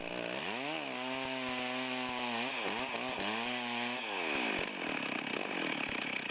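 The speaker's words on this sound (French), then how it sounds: "on vient d'amorcer le trait de scie" A chainsaw cuts into a log, its engine loud and close, revving up and down in several surges as the bar bites into the wood, then settling to a rougher idle toward the end.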